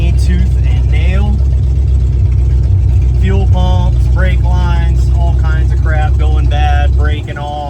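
A 1968 Ford Torino, revived after twenty years sitting in a barn, running while driving: a loud, continuous low engine drone under someone talking, easing off slightly at the end.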